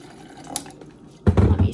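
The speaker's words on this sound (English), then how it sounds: "Then I'm pouring the water." Water is poured over ice cubes in a canister, a quiet pause giving way to a sudden, close, steady gush of filling liquid.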